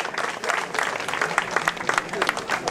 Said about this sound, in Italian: Un applauso a Franco Camerani.